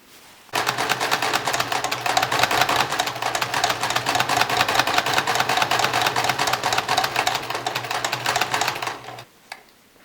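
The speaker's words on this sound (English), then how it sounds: "secure it with pins and we're going to sew it in place" A sewing machine stitches a fabric face mask in a fast, steady mechanical run of about nine seconds, close and loud, then stops abruptly.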